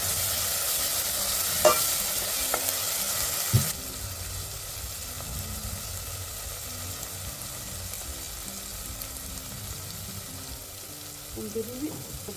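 Onion, garlic and ginger frying in a pan give a steady, close sizzling hiss, with a few sharp clicks of a utensil against the pan early on and a bit of faint background noise.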